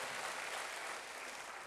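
Congregation applause at a church service: a short, even wash of many hands clapping, faint and distant, continuing without a break and with no voices over it.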